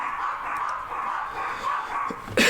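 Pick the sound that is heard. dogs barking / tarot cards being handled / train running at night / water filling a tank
dogs barking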